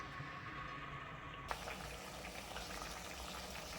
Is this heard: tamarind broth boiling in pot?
yes